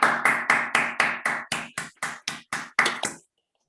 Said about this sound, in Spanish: Un gran aplauso entonces para Felipe.